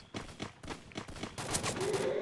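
Gunfire crackles in a battle royale video game match: several sharp bursts of shots in quick succession, then denser overlapping fire, loud and close.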